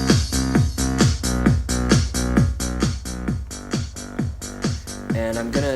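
A Yamaha PSR-E453 keyboard plays a DJ pattern style, a loud, steady electronic loop with pulsing rhythmic beats and synth tones that continues throughout without any talking.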